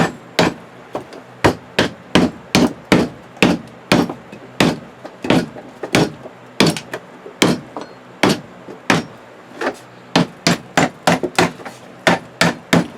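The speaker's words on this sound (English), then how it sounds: "You get your hammer." Repeated sharp hammer blows driving nails into wooden frames, about two per second in bursts with short pauses, loud and close with no talking.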